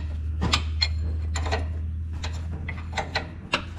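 A wrench clicks and ticks in short metallic bursts as it is flipped back and forth on the brake adjustment nut of a Kubota BX tractor, close and fairly quiet over a steady low hum.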